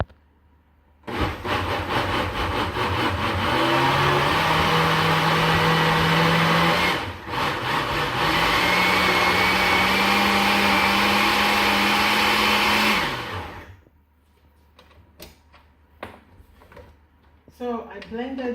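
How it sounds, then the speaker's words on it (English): A kitchen blender whirs loudly while blending keto spinach pancake batter, running in two long bursts with a brief pause between, its motor pitch climbing slightly before cutting off; scattered clatter and rustling follow. "So I blended the keto spinach pancake."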